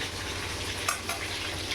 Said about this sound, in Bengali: বাটা মাছটা আমি ভাজছি।